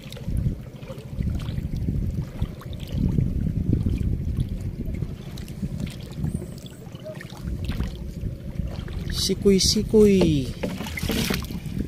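A boat hauling a fishing net across the water gives a low, continuous rumble with watery splashing, and a brief creaking burst near the end. A voice speaks faintly in the background.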